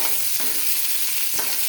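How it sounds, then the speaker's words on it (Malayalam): Mustard seeds and chopped onion fry in a pan for a tempering, giving a loud, continuous close-up sizzle broken by occasional stirring scrapes and no voices. "കടുക് വറക്കാൻ ഉള്ളി അരിഞ്ഞത് ഇട്ട് കൊടുത്തു"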